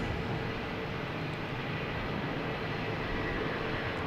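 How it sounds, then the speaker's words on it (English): A JetBlue Airbus A321 takes off from Boston Logan, its engines giving a faint, steady broadband roar at a distance with no other sounds. "We got a JetBlue taking off, heading to JFK, an A321, flight 8369"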